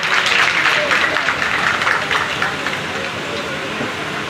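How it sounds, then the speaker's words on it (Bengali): Sustained, dense applause from an audience at an award ceremony held in Haringhata block, Nadia, steady and loud at first and easing slightly toward the end, with no distinct voices over it. "একটু জোরে হাততালি চাই"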